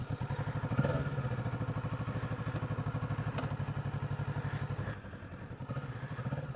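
A Kawasaki Ninja 650 rumbles along a single-track gravel lane with a steady, close throbbing engine pulse and occasional clatter from the surface, the engine briefly easing near the end, with no talk.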